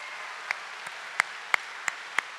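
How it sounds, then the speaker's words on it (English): A handful of sparse, separate claps at a high school graduation, faint and spaced irregularly against quiet background hiss. "Let's give them another round of applause"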